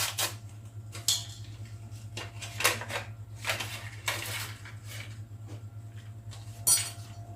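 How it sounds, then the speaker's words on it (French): Apple tart batter being mixed with baking powder in a bowl, giving a series of irregular clinks and scrapes of utensil against dish, close and moderately loud over a steady low hum. "Vous mélangez bien."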